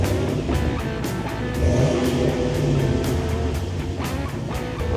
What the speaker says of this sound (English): We just experienced a bit of mild off-roading.